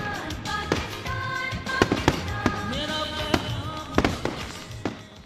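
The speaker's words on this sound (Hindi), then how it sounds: "आतिशबाजी के मुजाहरे भी ठीक हैं।" Fireworks at an independence celebration in Pakistan: a steady run of sharp bangs and pops over continuous crackling, with occasional whistling tones, fairly close and loud, with no talking.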